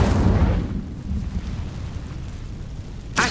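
A fiery Incendio spell is cast in the video game Hogwarts Legacy, a loud roaring blast that dies into a low rumble, with a second sharp burst flaring right at the end.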